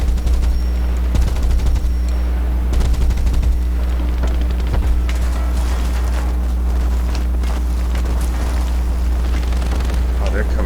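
Quad 20mm anti-aircraft guns on a tank chassis firing in War Thunder, rapid loud bursts of automatic cannon fire over a constant low engine drone, with a voice talking between bursts.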